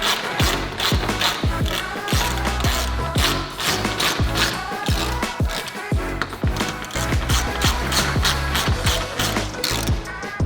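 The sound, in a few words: 1/4 Allen key tightening roof tent mounts on a Toyota 4Runner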